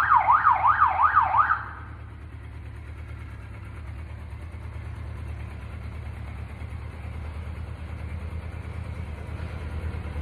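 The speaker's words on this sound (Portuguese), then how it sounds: "do outro lado a gente aciona a sirene." A Kawasaki police motorcycle's wailing siren sweeps up and down quickly for about a second and a half, then cuts off, leaving the engine idling steadily nearby.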